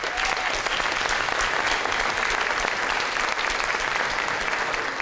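Sustained applause from an audience at a Hamilton city presentation on Greenbelt land removal, steady dense clapping filling the room at full strength throughout without a break.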